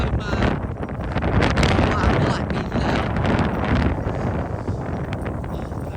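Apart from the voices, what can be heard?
strong wind by the East River, Williamsburg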